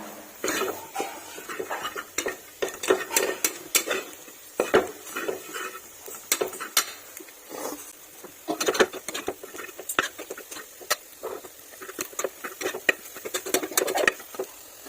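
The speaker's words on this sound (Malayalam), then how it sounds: "അത് നന്നായിട്ട് ഇളക്കി കൊടുക്കുക" A spoon scrapes and clinks against a pan while coriander powder masala is stirred, irregular metallic taps and scrapes over a faint sizzle, close and moderately loud with no talking.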